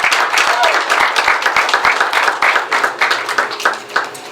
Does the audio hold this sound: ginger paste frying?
no